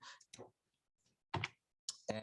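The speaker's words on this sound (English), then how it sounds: "I don't feel like typing this out again. So I'm going to copy it and I'm going to paste it." A computer keyboard clicks in a few short, separate bursts while someone copies and pastes code, with quiet gaps between the clicks.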